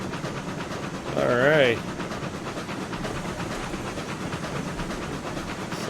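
A steam locomotive in the RailRoads Online video game chuffs and hisses with a steady rolling rhythm, a short whistle rising briefly above it, while someone says a word.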